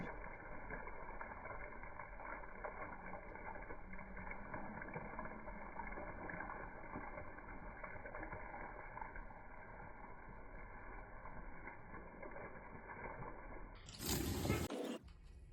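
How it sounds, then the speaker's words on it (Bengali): Water is poured onto a tulsi (holy basil) plant in a home garden. A continuous close splashing trickle runs steadily, then a louder, sudden rush of water comes just before the end. "এবার আমি তুলসী গাছটাতে জল দিয়ে নিই।"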